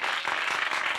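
Studio audience applause welcoming performers onto a Brazilian sertanejo music TV program, a dense, steady wash of clapping filling the short moment at full, even loudness with no speech.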